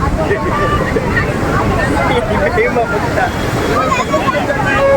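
Sea waves wash continuously along the shore at Somnath, a broad steady roar mixed with wind buffeting the microphone and distant crowd babble.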